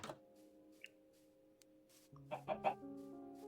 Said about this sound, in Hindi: वो देखो चिकन, वो मुर्गी सीड से अट्रैक्ट हो रही है इसको खाने के लिए।